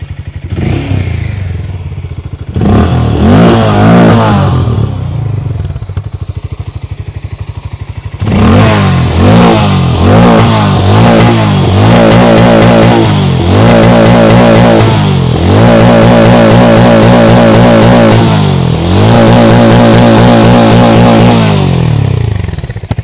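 Hero Mavrick 440 motorcycle, sharing the Harley-Davidson X440 engine, idles then is revved repeatedly, its exhaust note rising and falling in loud close blips and sustained pulls.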